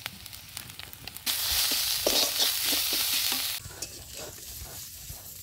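Onions and spices frying in a pan with ginger, garlic, turmeric and salt: a steady loud sizzle that swells for a couple of seconds amid stirring scrapes, then settles back to quieter crackling.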